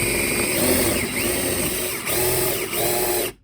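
A small drill bores through model railway scenery for a trackside tool shed, whirring steadily close to the mic with a gritty mechanical buzz that dips and surges briefly before stopping abruptly.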